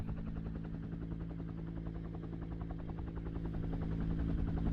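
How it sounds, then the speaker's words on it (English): A helicopter passes overhead with a steady, rhythmic rotor thump and engine drone, fairly faint at first and growing slightly louder. "that's a chopper, not Chopper Reed, but Chopper the helicopter"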